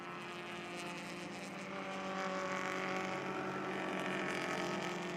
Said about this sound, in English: Great listening to these cars as they go around the track